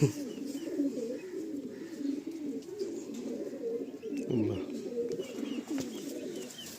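Several Madrasi pigeons coo softly and continuously at close range, their low throaty calls overlapping in a steady murmur with no voices.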